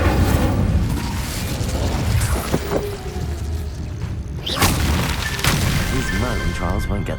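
An Incendio fire spell cast in Hogwarts Legacy on PS5, a loud whooshing burst with booming impacts and crackling mechanisms over a dense game soundscape, with speech over it.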